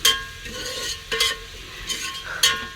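Onions stirred and fried for chicken curry in a pan inside a lorry cab, with a spoon scraping in several distinct bursts over a steady, close sizzle.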